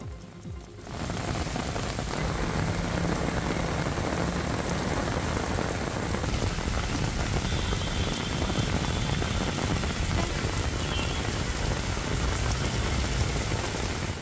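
Dense, steady downpour of heavy rain in Hassan district, loud and continuous, hissing and drumming without a break.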